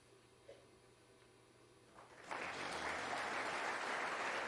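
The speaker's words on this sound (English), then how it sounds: "I know it gets applauds and all that" Audience applause breaks out after a snooker shot at the World Snooker Championship final, starting with a sudden swell midway after a quiet arena hush and continuing as sustained, fairly distant clapping from the crowd.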